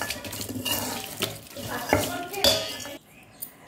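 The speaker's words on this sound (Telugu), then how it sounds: "ఇప్పుడు చల్లారిపోయిన తాలింపుని ఇందులో వేసి కలుపుకోవాలి" Close clinking and scraping of a spoon stirring cooled tempering into pickle in a bowl, a few quick irregular strokes, then a short pause.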